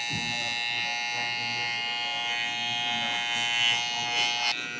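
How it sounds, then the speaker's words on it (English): A Wahl Detailer hair trimmer lines up the edges of a men's mid taper haircut, giving a steady close electric buzz that holds for several seconds with slight shifts in pitch as it presses against the hair. "now I'm gonna come in with my wall detailers and really put in that final line"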